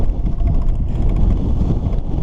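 Strong wind buffets the microphone of someone cycling through town, a short, loud, low roar with no speech.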